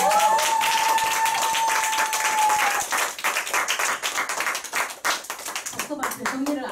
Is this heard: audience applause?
yes